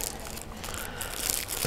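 Close, soft crinkling of plastic packaging being handled and pulled away, brief and fairly quiet.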